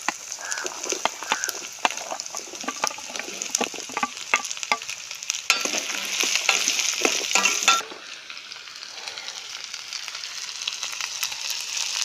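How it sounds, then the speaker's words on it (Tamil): Cauliflower, carrot and beans sizzle and get stirred with onion in a hot pan outdoors, a steady crackling fry with scraping strokes that swells louder midway, then eases to a quieter, even hiss. "இப்போ வெஜிடபிள்லாம் சேர்த்துக்கலாம் நான் வந்து காலிஃப்ளவர் கேரட் பீன்ஸ் இது மூணும் எடுத்திருக்கேன்"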